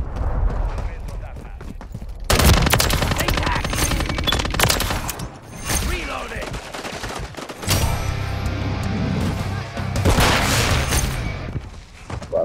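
Continuous gunfire in a shooter video game, with rapid machine-gun bursts and heavy overlapping shots in a dense, loud mix, and someone talking over parts of it.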